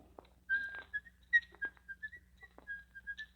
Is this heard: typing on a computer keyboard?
no